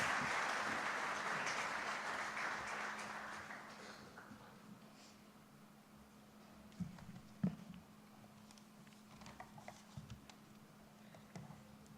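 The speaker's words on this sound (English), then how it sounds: "may I request everyone to please welcome him with a round of applause" Audience applause welcoming a speaker at a banking conference inaugural session, loud clapping for about four seconds that fades into quiet room noise with scattered thumps and shuffles.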